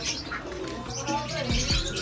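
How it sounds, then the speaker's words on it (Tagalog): Birds chirp and coo close by, with a brief flutter of wings, over a busy background. "tignan mo itong ibon na to"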